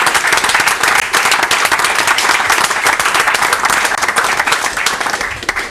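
A live audience applauds a performance of a song, loud dense clapping sustained throughout and fading slightly at the end.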